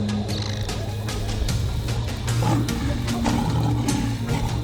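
A lion roars low and rumbling in the Serengeti during an attack on a baboon troop, the growl sustained and loud over a noisy outdoor background.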